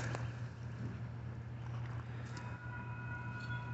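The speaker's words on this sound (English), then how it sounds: "BNSF train." Northbound BNSF freight train led by BNSF and UP locomotives rolling past at a crossing, a steady low rumble with faint wheel squeal and distant horn tones, moderately quiet and continuous.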